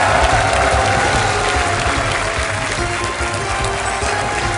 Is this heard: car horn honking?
no